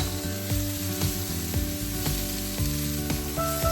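Chopped vegetables for Hakka noodles sizzle loudly in a hot wok as they are stirred and mixed, with steady frying hiss and repeated scraping strokes of a utensil, close up and without talk.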